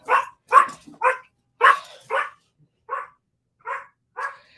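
Dogs barking nearby, a run of about ten sharp barks in irregular bursts with short pauses between them and nothing else heard.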